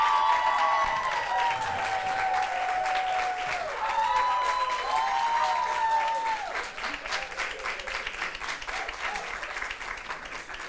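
Audience at a school team quiz finale in Macau applauds the winning teams, with sustained clapping throughout. Whistles and tonal cheers ride over the first half, then the clapping continues alone, slightly softer.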